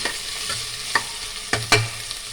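Carrots fry in a pan for vegetable pulao under a steady, soft sizzle, while a spoon scrapes and clinks against the pan a few times at irregular intervals, up close and with no talking.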